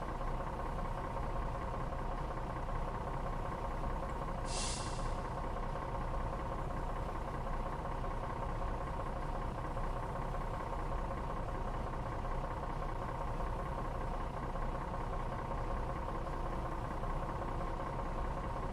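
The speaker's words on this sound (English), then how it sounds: "This is a nice truck. It's got a nice engine sound." A steady, low truck engine idles without change for the whole stretch in the SnowRunner video game, rumbling evenly, with one brief high hiss partway through.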